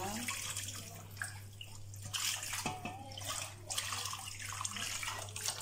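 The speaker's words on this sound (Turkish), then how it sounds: "Şimdi hazırladığım sosu güzelce şöyle kabakların üzerinden" Sauce and water are poured over stuffed Cretan zucchini in a pot, a soft continuous splashing and trickling with a few brief drips, heard close and fairly quiet over a low steady hum.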